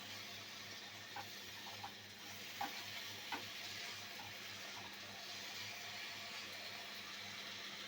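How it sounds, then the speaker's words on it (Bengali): Mango pickle cooking down in a pan with sugar as it is stirred, giving a steady sizzle and bubbling hiss with a few soft spoon knocks against the pan throughout. "এভাবে আমি নাড়াচাড়া করে কষে নেব।"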